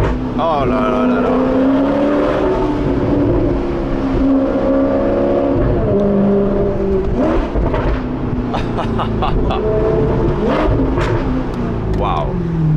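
An Alfa Romeo 8C Spider's engine revs up and down while driving, a loud rising and falling mechanical roar that fills the cabin, with excited voices speaking over it.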